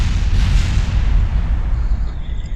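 A flying car in Kerbal Space Program blows up with a loud, sustained rumbling boom. Dense low roar continues for the whole stretch, with a crackling burst near the start and no voices.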